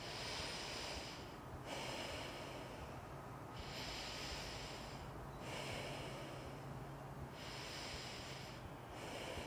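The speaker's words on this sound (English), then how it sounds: "Go ahead and seal this nostril and open this one and 3 breaths on this" Nasal breathing through one nostril during a kids' yoga exercise, heard as slow, even breaths that repeat in a steady rhythm, close and airy.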